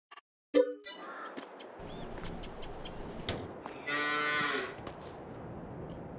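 Cows mooing inside a livestock barn in the farming game Farming Simulator 22, with several drawn-out moos from the herd over a steady ambient barn hum, fairly close and loud, with no talking.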